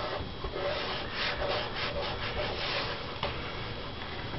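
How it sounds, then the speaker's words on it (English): A fingertip rubs bare metal foil down onto a scale model, giving a steady, close, soft scraping friction for the whole stretch, with a slight swell in the middle and a small tap near the end. "then I just rub my finger over"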